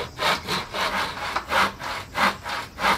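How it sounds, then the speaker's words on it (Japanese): A hand saw held in a saw guide rasps through wood in steady back-and-forth strokes, close and even, roughly three strokes per second with no talking. "このノコギリガイドを使うと本当に綺麗にね、90度や45度で切断できる"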